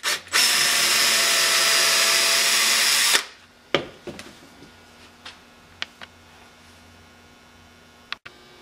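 A power drill drives screws into a homemade wooden picture frame, a steady whir for about three seconds, then stops, followed by scattered knocks and taps of handling in a quiet room.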